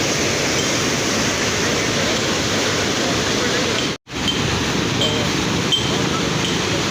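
Fast-flowing mountain water rushing among large boulders in Kashmir, a loud, close, continuous roar that briefly drops out once.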